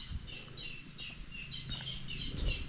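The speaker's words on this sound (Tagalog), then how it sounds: "Mga huni ng ibon." Birds chirp and sing around an outdoor camp with planted crops, a steady chorus of short repeated calls layered over faint low background hum, moderately distant and fairly quiet.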